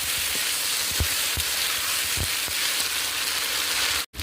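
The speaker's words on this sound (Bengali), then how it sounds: "এর মধ্যে আমি আদা আর কাঁচা লঙ্কা বাটাটা দিয়ে দেবো দিয়ে আমি আবার এটাকে ভালো করে একটু কষিয়ে নেবো" Potatoes, tomatoes, ginger and green chili paste sautéing in a pan for a fish curry: a loud, continuous hiss and sizzle with soft scrapes of stirring at intervals and a brief dropout near the end, no voices.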